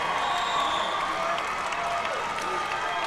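Cheering section of Boyd County Lions fans at a boys' 16th Region basketball championship, a dense, steady roar of crowd cheering and applause filling the arena throughout, with no clear individual voices.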